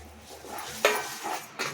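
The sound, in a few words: roasted sesame seeds added to jaggery syrup and stirred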